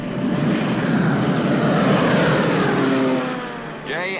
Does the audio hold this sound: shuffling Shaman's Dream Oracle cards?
no